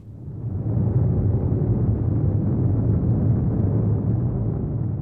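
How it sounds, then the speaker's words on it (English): A deep, continuous rumble swells in within the first second and holds steady and heavy, like the ground shaking. "This is the sound of an earthquake"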